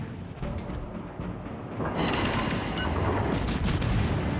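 Warship main guns fire armor-piercing shells in World of Warships, loud booming salvos rolling into one another with heavy rumble, no voices over them.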